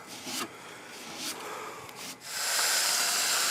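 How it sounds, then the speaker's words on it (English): A coil gun spraying brown foaming coil cleaner onto an HVAC unit, with short hissing bursts that give way to a louder continuous spray near the end. "He's cleaning it off with the coil gun."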